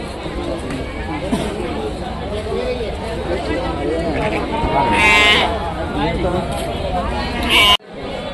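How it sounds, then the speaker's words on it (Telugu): Goats bleat repeatedly at a busy village livestock market in Rajarampalli, their calls rising over steady crowd chatter and nearby voices talking close by. "మేకలు"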